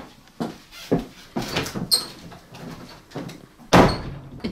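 An indoor door is banged shut, with a few scattered knocks and shuffles before one loud, close slam near the end.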